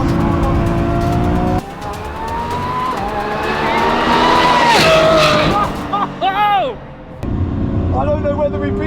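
Rebuilt Lamborghini Revuelto driven hard through the final corners of a fast run, the engine roaring loud and close as it revs and shifts, with brief tire squeal and someone talking excitedly over it.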